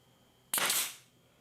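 A single sharp pneumatic snap as a brad nailer fires a brad into wooden drawer parts, a close, loud crack with a short hiss that fades within half a second.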